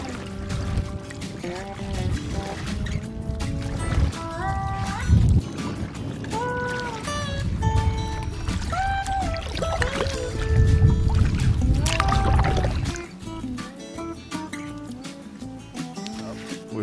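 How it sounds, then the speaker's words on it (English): A canoe gliding toward a lakeside campsite on Lows Lake in the Adirondacks, with soft water sloshing and paddle dips beneath prominent tonal music throughout. "We're strolling up on our campsite for the evening after a good day of paddling."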